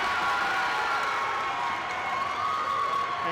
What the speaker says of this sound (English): And this crowd is alive.